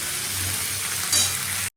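Vegetable curry sizzles and fries in a home pan, a dense continuous hiss with a brief brighter spatter partway through before it cuts off abruptly.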